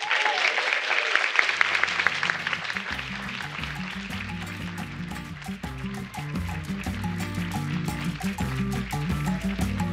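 An audience at an awards ceremony, a public service prize night, applauds at length, dense clapping running beneath a musical fanfare with low sustained notes.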